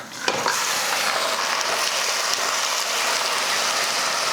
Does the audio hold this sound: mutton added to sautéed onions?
yes